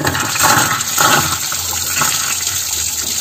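Water rushes out of an opened pool filter during backwash at a leaking, renovated pool, a loud continuous gushing flow close by, steady throughout with no voices.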